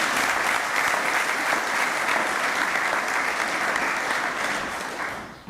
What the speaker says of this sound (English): let's give a big round of applause to all of those winners in our summer sports categories